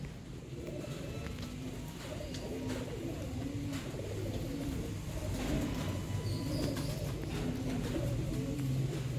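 Ali-type pigeons, a breeding pair in Sialkot, coo softly in repeated low, throaty phrases amid faint background bird chirps and a light ambient hum.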